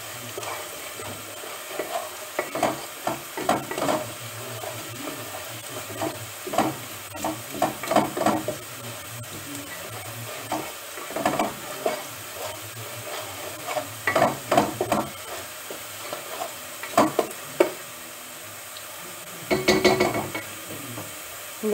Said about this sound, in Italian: era per farvi vedere il soffritto